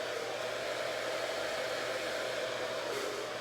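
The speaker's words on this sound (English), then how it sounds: "first I'm going to turn on the hairdryer and I'm going to make it just hot" A hair dryer blows hot air steadily at close range onto epoxy-coated cups, a constant whooshing roar with a motor hum underneath, unbroken throughout.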